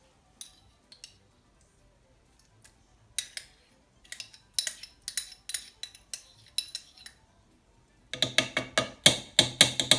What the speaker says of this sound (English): we have the salt and pepper grinder, so we're just gonna guess